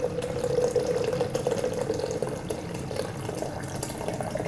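Liquid fix remover for film processing pours into a container from a tap or bottle, a close, steady trickle and splash with a rising filling tone, heard without voices.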